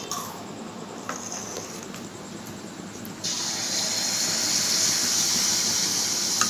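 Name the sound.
jackfruit malpua batter frying in oil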